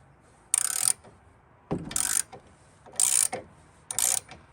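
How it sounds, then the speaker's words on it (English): Pinch bolts on a Rock Jock rear anti-sway bar of a Jeep Wrangler JLU being tightened to 35 ft-lb with a ratcheting torque wrench: four short, close bursts of rapid metallic clicking separated by quiet pauses. "Next step is to put in the pinch bolts and torque those to 35 foot-pounds"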